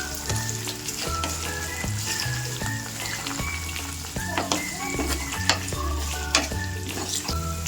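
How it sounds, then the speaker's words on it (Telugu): Green chillies frying in a pan for tamarind rice, a loud close sizzle overlaid with repeated scraping and clinking of a spatula stirring against the pan in an uneven rhythm. "వీటిని కొద్దిగా ఫ్రై చేసుకుందాము."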